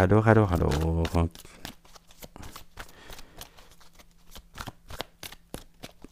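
Playing cards are laid out and shuffled, with a voice speaking briefly at the start followed by a series of quick, crisp riffling snaps and soft slaps at close range.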